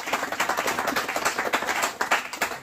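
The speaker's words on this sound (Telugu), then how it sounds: "కొట్టడు గట్టిగా క్లాప్స్" Audience at an outdoor gospel meeting clapping hard and steadily, a dense run of overlapping claps that stays loud throughout with no talk over it.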